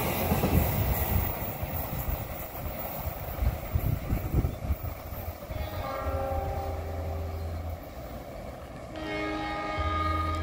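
Indonesian KA Malabar passenger train rolling through Kroya Station, a loud close rumble of wheels and cars, with long steady horn tones sounding over the passing train in the second half.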